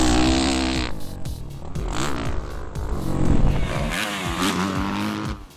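A 2009 Kawasaki KX250F motocross bike is ridden, its engine revving up and down continuously through gear changes and throttle blips, loud and close with no talk.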